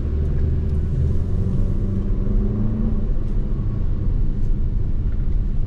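A 2023 Toyota Highlander SUV accelerates with a steady, loud low engine drone and road rumble from inside the cabin. The sound stays even throughout with no talking.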